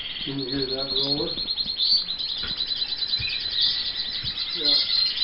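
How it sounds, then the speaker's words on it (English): Roller canary singing in an aviary among other canaries, a continuous high rolling trill running through the whole stretch with overlapping chirps, plus brief low voices of people speaking nearby. "Hear that roller?"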